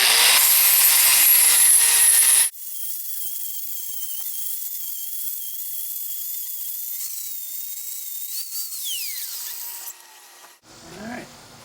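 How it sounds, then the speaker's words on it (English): A hand saw notches a wooden post for a pool deck. There is a burst of loud rasping strokes, then a long steadier tone that wavers and fades. A final short scrape ends it, with no talking. "these are the tools I have, so I make do"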